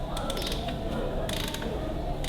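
A ratchet wrench clicks steadily while undoing the six 11/16 bolts on the back plate of a Ferguson TEA20 tractor, with bursts of metallic ratcheting close up over a constant mechanical background.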